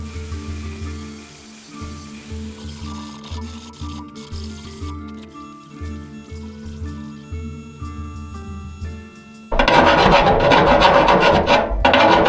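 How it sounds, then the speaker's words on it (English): An angle grinder works over a freshly welded steel piece in a metal shop, a steady loud buzz with tonal hum that swells into a harsh, bright, louder grinding roar near the end, with no talk. "we'll shut the welder off and grind this thing"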